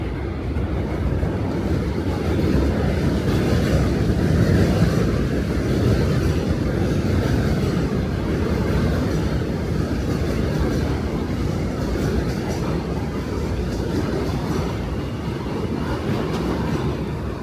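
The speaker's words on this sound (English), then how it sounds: "the trains are running to Coney Island because I can hear one coming in now" A subway train pulls into a station along McDonald Avenue in Brooklyn, bound for Coney Island, its rumbling roar with steady rail clatter filling the whole stretch at close, loud range.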